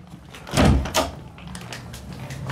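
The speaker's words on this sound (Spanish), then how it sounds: "No puedo abrir la puerta." A stuck door is forced open in a dark home stairway in Cuba: two heavy thumps land close together, then a low rumbling rattle trails off.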